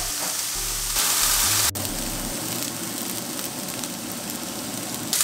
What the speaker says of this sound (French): Moi j'adore venir faire dorer mon jambon un petit moment